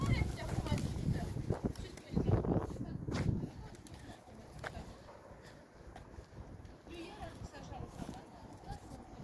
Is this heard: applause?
no